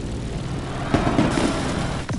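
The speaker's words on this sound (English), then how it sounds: "Let's start our descent and get ready for the landing" Airplane descending toward a landing in Honolulu, a steady broadband engine roar with a few soft bumps and swells, heard from close by with no talking.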